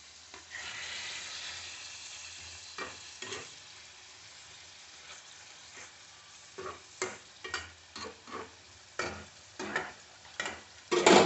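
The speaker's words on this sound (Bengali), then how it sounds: "দেখো মাংসটা একটু কষে নেব এর মধ্যে।" Meat browning in a pan for Muradabadi biryani, with a steady sizzle beneath irregular scraping and stirring clatters that grow louder and more frequent toward the end.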